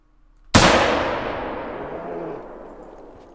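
A single 30-30 rifle shot cracks loud and close at a brown bear in the hunting game Call of the Wild theHunter, followed by a long rolling echo that fades over about three seconds.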